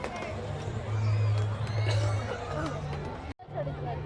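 Crowd chatter at the Baisakhi Banijya Mela fair in Cuttack, a steady hubbub of many voices with a nearby voice talking over it, briefly cutting out near the end before resuming.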